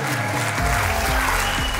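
An audience claps through a fishing tournament awards ceremony at the Bermuda Billfish Blast, with sustained applause over a pulsing music bed and faint voices mixed in.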